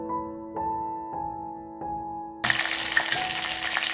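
Dried chili peppers fry in hot oil for a spicy shredded potato salad. A few soft tonal clinks come first, then a loud, dense sizzle starts abruptly and crackles steadily close by, with no talking.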